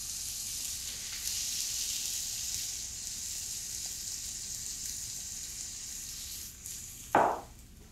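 Carrots and onions fry in a hot pan, sizzling with a steady, even hiss that runs throughout, then a brief clatter from the pan near the end.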